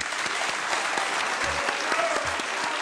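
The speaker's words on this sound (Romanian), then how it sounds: "Și pentru asta toată lumea te aplaudă." Steady, loud studio audience applause from a Romanian television talk show, a dense wash of clapping that holds evenly throughout with no voices on top.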